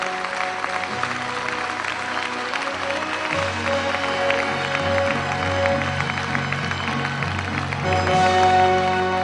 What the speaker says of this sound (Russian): А вот здесь аплодисменты от всех вайнахов должны быть очень и очень громкими.